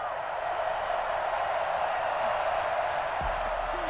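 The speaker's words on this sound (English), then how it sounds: "They've got their home crowd into it as well." Home crowd in Madden NFL 21 during a Super Bowl game, a steady dense roar of cheering from a stadium audience, constant and moderately loud throughout.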